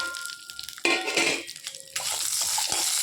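Onion and garlic going into a hot pan for pirandai chutney: a burst of frying sizzle and stirring scrapes, building to a steady loud hiss near the listener, with no talking.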